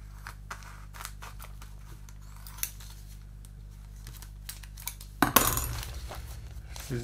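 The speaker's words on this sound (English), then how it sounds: "Scissors going blunt." Scissors snip repeatedly at a large decal sheet from a 1:24 scale SPAD S.XIII model kit, the blades sticky with tape; small close clicks and crunches come in an uneven run, then a louder burst of rustling near the end.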